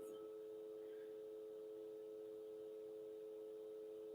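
A steady pure sine tone at 432 Hz holds unbroken and even at moderate level throughout, with no voices or other sounds.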